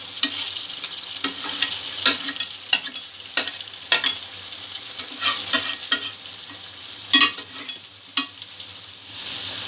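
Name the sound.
sautéing chicken and potatoes with spices in a pan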